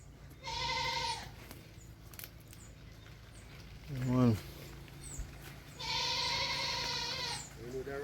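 Goats bleating on a goat farm in Jamaica: two long, loud wavering bleats near the start and end with a shorter call between them, over steady farmyard background and a brief spoken voice.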